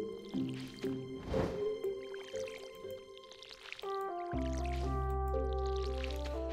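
Watering can being refilled with water in the Stardew Valley farming game: a soft liquid filling and dripping effect under steady background game music, with no talking.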